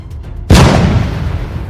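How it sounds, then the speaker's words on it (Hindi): A sudden, powerful explosion shakes a ship, bursting in after a quiet moment, its deep rumbling roar lingering and slowly fading. "एक जबरदस्त धमाका जहाज को हिला देता है"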